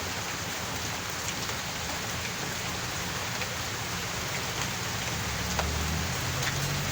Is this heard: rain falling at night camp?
yes